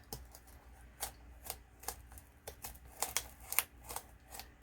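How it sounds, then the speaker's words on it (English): A knife slicing through the stitched spine of a handmade Halloween junk journal, a series of faint, quiet scratchy snips and clicks spaced irregularly, close to the microphone with no talking. "So I'm going to have to use my knife to cut the stitches."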